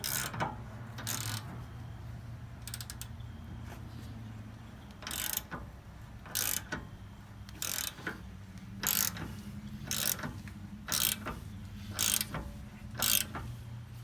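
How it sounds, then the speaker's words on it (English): Ratcheting clicks from a press being tightened to seat a lower ball joint on a Jeep, with a cup on top and a press cup below; repeated short bursts at a steady rhythm over a low background hum. "we're gonna press this lower ball joint up and in. So we have the cup over here, and then the press cup down on the bottom. And simply tighten her up in."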